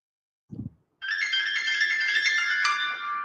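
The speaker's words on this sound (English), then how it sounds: "Ooh, what a ringtone." A bright electronic phone ringtone rings steadily for a couple of seconds after a brief low thump, loud and close with a melodic, repeating pattern.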